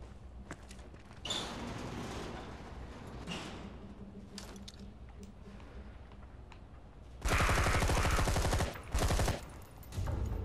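Suppressed gunfire in the zombie video game Zombi: soft bursts of muffled shots between mechanical clicks and handling noises, followed near the end by a louder, denser stretch of rapid fire.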